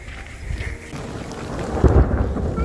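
Thunder rumbles over steady rain during a hike at Cedar Creek Falls near Ramona, the low roll building and peaking loudly near the end beneath a constant hiss of falling rain.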